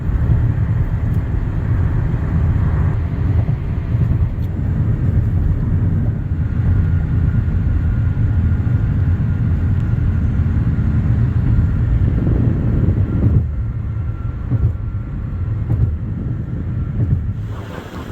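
Steady road roar and wind buffeting from inside a car cruising on an Illinois highway toward St. Louis, a constant loud rush with no talking.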